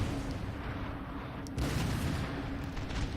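Heavy booming cannon blasts from Napoleon: Total War battle, fired against cavalry, over a steady rumbling din, with a sharper burst partway through and continued firing after it.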